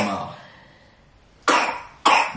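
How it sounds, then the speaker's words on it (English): A woman coughs at home, first a trailing throaty cough fading out, then after a pause two sharp, loud coughs in quick succession, close to the microphone. "I coughed all in my mouth"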